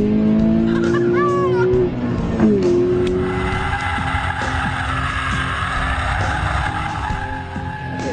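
A 2012 Toyota GT86 engine revs and whines under acceleration with rising and falling pitch sweeps and a brief tire squeal, followed by a steady loud driving drone up close.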